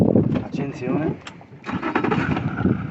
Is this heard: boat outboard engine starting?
yes